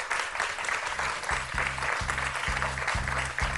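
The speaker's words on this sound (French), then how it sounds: "Patricia, on peut vous applaudir." Studio audience on a French television quiz show applauds a contestant, a steady wash of clapping with a low rhythmic musical sting pulsing underneath throughout.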